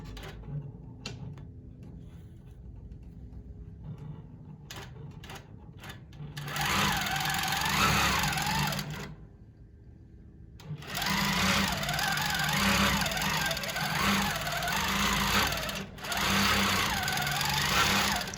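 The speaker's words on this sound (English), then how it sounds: "go ahead and hit quilt run, or pro stitcher run" A longarm quilting machine runs an edge-to-edge stitching pattern across a quilt, its steady mechanical whir and rapid needle rhythm loud and close, dropping briefly in the middle before resuming.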